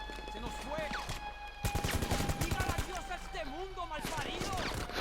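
Gunfire in GTA V during the Cayo Perico heist finale: rapid bursts of automatic shots crack and rattle close by over game music and ambience, with a dense volley in the middle of the clip.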